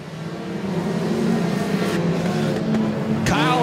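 Compact race cars roar around Moler Raceway Park in a steady, loud engine drone with shifting pitch, brief tire scrub and a short sweeping whine near the end.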